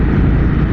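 A 2023 Harley-Davidson CVO Street Glide motorcycle engine runs with a steady, loud, close low rumble and a broad roar, unbroken through the whole short stretch, with no speech.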